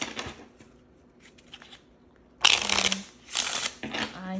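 A deck of cards being shuffled for a pick-a-card reading, with soft riffles early, then two loud, close bursts of riffling and bridging near the end over a quiet room.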